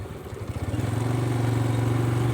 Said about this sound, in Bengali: আমি আজকে গ্রামের এই সুন্দর আঁকা বাঁকা রাস্তা দিয়ে বাইক নিয়ে একটু ঘুরতে আসলাম